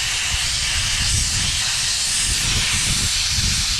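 Harbor Freight sandblaster blasting buildup and oil off a big block intake, with an air compressor running, giving a loud continuous broadband hiss with a low rumble underneath.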